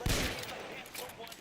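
Gunshots crack in L.A. Noire, a dense burst of firing at the start that settles into sustained loud game noise with a voice mixed in.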